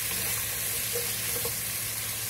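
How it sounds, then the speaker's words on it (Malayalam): Carrot, dried red chillies and curry leaves sautéing in hot oil in a pan for a Kerala-style upma, giving a steady close sizzle with faint stirring scrapes and no voices. "അതിലേക്ക് നമുക്ക് എടുത്ത് വെച്ചിട്ടുള്ള ക്യാരറ്റ്, ഉണക്കമുളക്, കറിവേപ്പില ഒക്കെ ഇട്ട് നന്നായിട്ടൊന്ന്"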